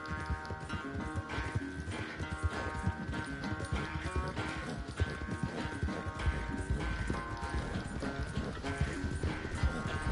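Horse galloping in the video game Red Dead Redemption 2, rapid rhythmic hoofbeats under a dense game soundtrack with music and ambient effects, continuous throughout.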